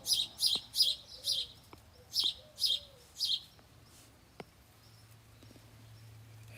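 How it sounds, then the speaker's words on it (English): A small sparrow chirps in a string of seven quick, bright tweets in the first half, close and clear, then falls quiet with a few faint clicks over a low steady hum. "He's a little sparrow champ."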